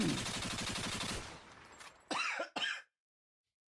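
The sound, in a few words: cough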